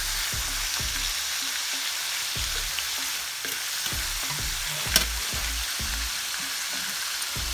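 Fresh green beans sizzle in a pan under repeated stirring knocks and scrapes, a constant frying hiss with one sharp clink, no talk.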